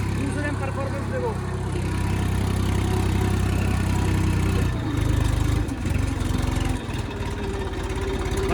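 A tractor engine labours in second gear with a steady low droning chug, loud and close throughout, its tone shifting partway through as someone speaks over it.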